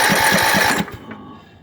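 Craftsman YTS3000 riding mower engine cranking on a cold start without choke: a loud, rapid rhythmic chugging of the starter for under a second, then it stops and fades into quiet without catching.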